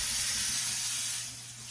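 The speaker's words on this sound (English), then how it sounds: "you have to use cold water at the back of the bowl, and you gotta rinse your rice" Cold tap water runs hard into a bowl of rice being rinsed, a steady bright hiss and splash that eases slightly toward the end, with no talking.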